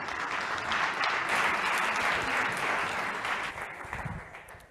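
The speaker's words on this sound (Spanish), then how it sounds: "Un aplauso para él." Warm audience applause at a Spanish conference welcoming a speaker on bringing classes into museums, a steady crowd of clapping that swells then tapers off near the end.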